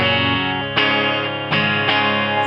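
Electric guitar played clean straight through an amp with no effects, ringing sustained chords with a few new strums landing in a steady rhythm, close and fairly loud.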